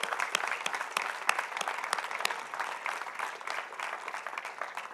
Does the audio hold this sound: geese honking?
no